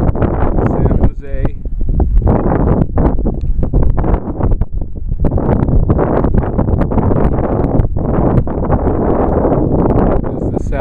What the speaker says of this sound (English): It'll probably be a little windy sounding when I walk around